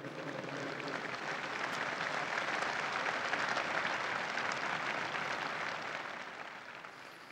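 A large outdoor crowd applauds at Pope Francis's Angelus gathering honouring a newly beatified young man, a dense, steady clapping that swells, holds and then fades slightly.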